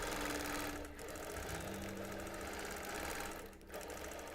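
A sewing machine stitches quilt feathers beside a fabric spiral in a fast, steady mechanical chatter, close and continuous with two brief pauses and no talk.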